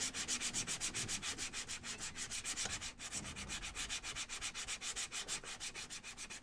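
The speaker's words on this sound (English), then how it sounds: "Now our stand, I want to sand this down a lot." Steady, rhythmic back-and-forth sanding scrapes on a wooden stand, close and fairly quiet, with about three strokes per second continuing throughout and no talking.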